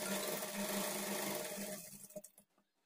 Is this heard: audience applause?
no